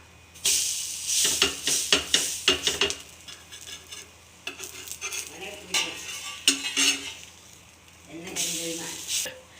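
Food cooking in a covered pan is flipped, giving bursts of metallic clatter from the utensil and lid over a softer intermittent sizzle, with quiet pauses between.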